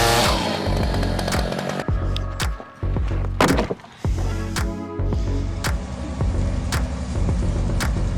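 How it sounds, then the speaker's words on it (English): A powerful Stihl MS-881 chainsaw cutting through large tree trunks in harsh logging conditions, its engine roaring loud and close with a steady whine, dipping and surging as the chain bites into the wood, with sharp cracks throughout. "MS-881, the most powerful chainsaw in the world, is the answer"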